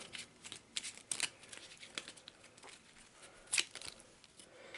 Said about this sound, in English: So we'll shuffle it up, seeing as I had to look through the deck for the axe.